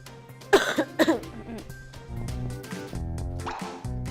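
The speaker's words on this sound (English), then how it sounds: "I hate this cough" Two sharp coughs close by, then a short pause before tonal background sounds follow, with faint voices nearby.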